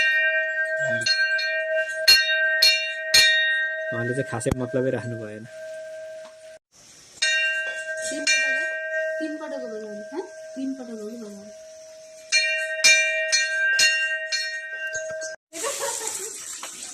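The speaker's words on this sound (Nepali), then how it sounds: "उहाँले चाहिँ मन्दिरसँग मागेर आफ्नो इच्छाहरू मागेर घन्टी बजाउँदै हुनुहुन्छ।" A temple bell rings in bright, repeated metallic strikes that linger and overlap, in several bursts, while people talk between the rings, at Godawari, Lalitpur, Nepal.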